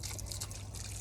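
Rinse water trickling and draining steadily out of a manual washing machine, a continuous close splashing stream with no pauses.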